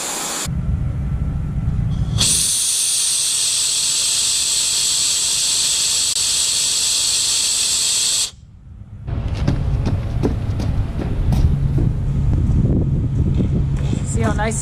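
An air compressor blasts air through household water pipes during winterizing, a loud hissing rush that runs for several seconds, cuts off briefly, then resumes with sputtering gurgles and bursts as water is forced out.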